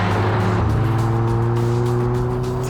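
A VW Golf R hot hatch driven hard through corners, its engine note holding a steady, loud drone that climbs in pitch as it accelerates out of the bend, with faint tyre noise beneath.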